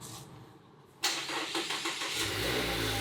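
A Mazda Miata engine cranks and catches abruptly after a quiet moment, then settles into a steady, close idle with a few uneven pulses as it starts up.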